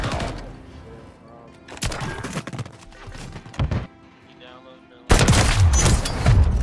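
Shotgun blasts in Call of Duty: Modern Warfare 3, loud bursts of gunfire punching in at intervals over game ambience, with a player talking between shots.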